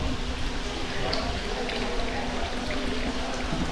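Water falls from above near a Shiva temple in Gwalior, making a steady, broadband rushing and splashing that stays constant and fairly loud throughout.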